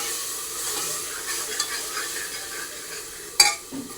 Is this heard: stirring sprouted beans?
yes